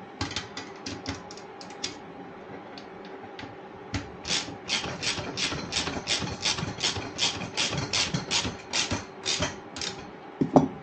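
A ratchet wrench clicks rapidly as a nut is tightened during assembly of a Kangook Basik paramotor trike, a few scattered clicks at first and then a long steady run of strokes close to the microphone, with no speech.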